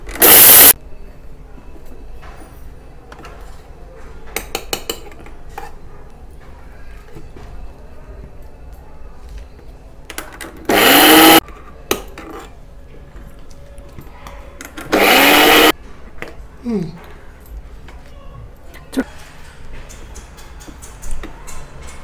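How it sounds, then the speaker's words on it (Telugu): A mixie grinder grinds roasted sambar powder spices in short loud bursts, about four separate whirring pulses with quiet pauses between them. "ఇప్పుడు గ్రైండ్ చేసుకుంటున్నాము."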